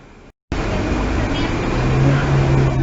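Air-conditioned city bus engine droning steadily while driving, a loud continuous rumble with a rising low hum after a brief dropout at the start, no talk.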